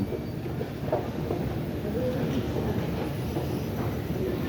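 Dubai airport connecting train heading to Terminal 1, a steady low rumble and rolling hum of the railcar in motion, heard from inside with a faint high whine throughout.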